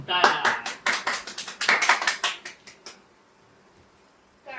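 A small group at a club celebration claps for a local winner being honoured after a final, about a dozen sharp, close claps in a quick uneven burst that stops after three seconds, leaving near silence.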